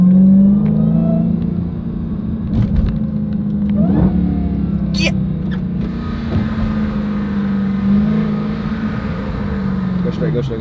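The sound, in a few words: car engine revving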